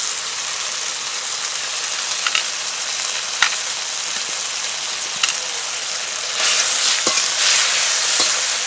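Mixed vegetables and fried bitter gourd stir-fried in spices for Bengali sukto make a loud, continuous sizzle, with occasional utensil scrapes and knocks. The frying swells louder toward the end.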